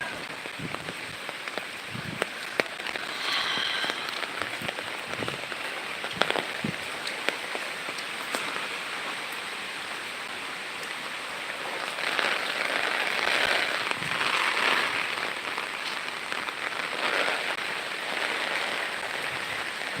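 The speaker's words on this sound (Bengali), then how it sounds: "এত হাওয়া হচ্ছে এত বৃষ্টি হচ্ছে" Heavy rain pours steadily with gusting wind, a dense hiss that swells louder in the middle and later stretches, with scattered sharp drops and knocks.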